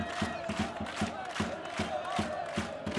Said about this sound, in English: the crowd is shouting